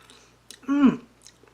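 Someone chews a mouthful of hot squash casserole, a short close burst of soft mouth and chewing sounds with a brief hum.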